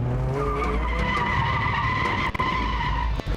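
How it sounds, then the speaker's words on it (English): A car drifting through a course of cones, with loud sustained tire squeal and skidding over a steady engine roar, close and continuous throughout. "let's try to drift these 2 turns right here"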